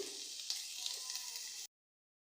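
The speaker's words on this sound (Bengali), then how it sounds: "তেলটা গরম হয়ে আসলে দিয়ে দিব পেঁয়াজ কুচি" Chopped onion fries in two tablespoons of hot oil with a faint, even sizzle and a few soft pops, then cuts off abruptly into silence.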